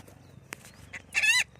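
Several birds call nearby, short chirps and clucks scattered through, ending in a louder warbling squawk.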